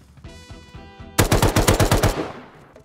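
AK rifle fire in the Rust video game: a short run of faint shots, then a loud, close burst of about nine rapid, evenly spaced rounds that trails off, with no talk.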